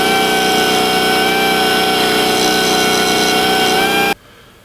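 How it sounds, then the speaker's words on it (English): Die grinder whining loudly and steadily as it cuts through and resurfaces a steel nut, a sustained high grinding tone that stops abruptly near the end. "with just a bit of light massaging with the die grinder, I've destroyed the nut and cut through it"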